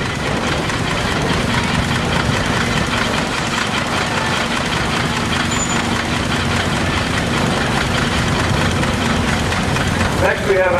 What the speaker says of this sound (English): Next we have this big Altman Taylor here.